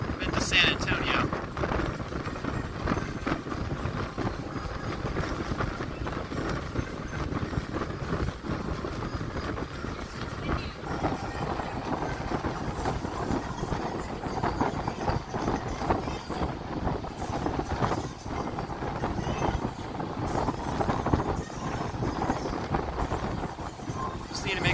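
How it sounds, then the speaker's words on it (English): A Union Pacific grain train rolls past in San Antonio, a steady broadband rumble and rattle of freight cars lasting throughout, with wind buffeting the microphone and some voices talking over it. "you can see a Union Pacific grain train down there"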